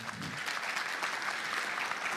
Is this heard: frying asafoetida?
no